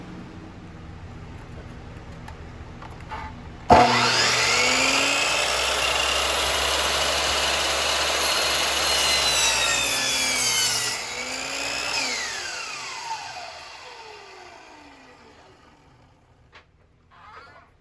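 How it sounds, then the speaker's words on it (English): A power saw whines up, then cuts through two stacked cedar birdhouse pieces at once with a loud, sustained buzzing cut lasting several seconds. The pitch drops as the blade spins down into quiet. "we're going to go to our saw now and cut this."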